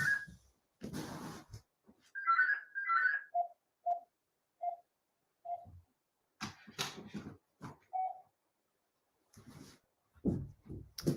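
Telephone ringing in a room during a live stream, a series of short repeated electronic ring tones spaced about a second apart, with brief bursts of rustling and handling noise between them.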